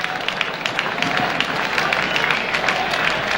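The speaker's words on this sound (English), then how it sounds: "Those fans start clapping for a strikeout" Baseball fans at a 1978 California Angels game clap for a strikeout, a steady wash of stadium applause and crowd noise heard from a distance.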